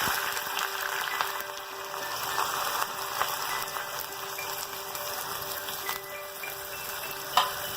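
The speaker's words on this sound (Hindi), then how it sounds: "अब हम आलू वाला तेल में ही कंदा डाल रहे हैं।" Onions going into oil already used for frying potatoes, a steady close sizzle and crackle with faint stirring clicks and one sharper knock near the end.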